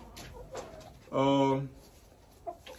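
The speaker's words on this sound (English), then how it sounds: "So I raised these chickens since they were little." A hen at a backyard coop gives one drawn-out cluck, clear and close, with quiet barnyard ambience and faint scattered sounds before and after.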